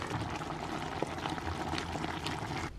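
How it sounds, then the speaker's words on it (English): Water pours and sloshes into a pot during pasta cooking, a continuous bubbling trickle with a few small splashes, fairly quiet and without talk. "I might pour some water into here, slosh it around a little bit"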